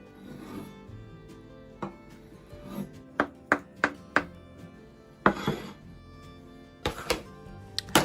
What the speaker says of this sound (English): carrot, slice and cut.